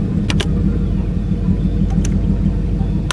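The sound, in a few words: turbo Ford Thunderbird engine running while shifting through the gears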